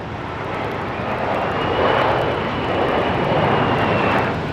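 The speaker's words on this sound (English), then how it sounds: "There's a Challenger 604 coming in just a short hop over from Oakland." A Bombardier Challenger 604 business jet comes in to land at San Jose International Airport, its engines a loud, steady roar that swells and holds close by, with no voices.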